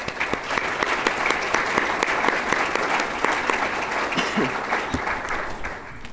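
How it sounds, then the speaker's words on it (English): Audience applause at an annual community foundation dinner, a steady dense wash of many hands clapping that holds for several seconds before starting to thin at the end. "So let's give them a round of applause."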